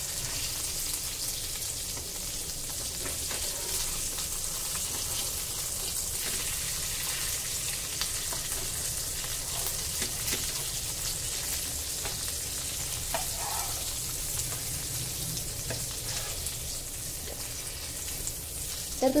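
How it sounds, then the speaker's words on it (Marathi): Rava-coated bangda (mackerel) frying in a pan, giving a steady, even sizzle that holds close and constant throughout with faint stirring or shifting near the end, no voices. "सर्व बांगडे तव्यामध्ये घालून झालेले आहेत। आता खालच्या बाजूने आपल्याला 5 मिनिटं फ्राय करून घ्या।"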